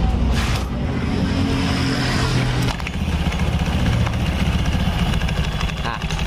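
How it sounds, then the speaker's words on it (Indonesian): A Honda Scoopy scooter with a noisy CVT starts and runs close by; there is a brief burst early on, then a steady engine note with a rattling undertone after the start, while a voice talks over part of it. "Oke, kita coba nyalakan lagi nih."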